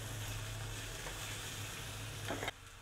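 Garlic and onion sizzling in hot oil in a pan, a steady crackling hiss that runs alone before cutting off abruptly near the end.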